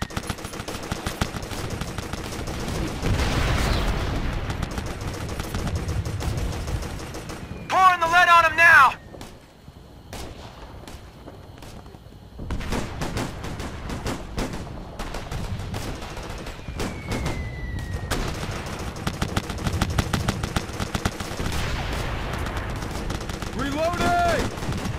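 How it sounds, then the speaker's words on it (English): Heavy gunfire in the video game Operation Flashpoint: Red River, with bursts of automatic rifle and machine-gun fire, sharp single shots and distant rattles, alongside shouted radio-style voices calling out positions. "We're taking heavy fire!"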